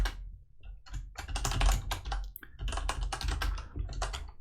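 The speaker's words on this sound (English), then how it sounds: "I did have to press a few more keys on the keyboard to get this thing written" Steady rapid typing on a computer keyboard, close and fairly loud, with dense clusters of key clicks and brief pauses, no voices.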